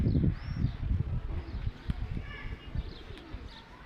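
Young pigeons coo softly in a loft, low murmuring calls repeating over a faint rustle, with a few higher chirps in the background.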